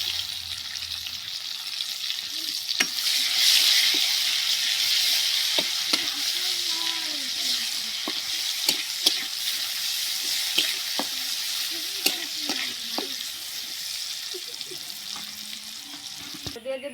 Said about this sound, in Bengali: এখানে আমি তেল দিয়ে দিব। দিয়ে দিব আমি পেঁয়াজ কুচি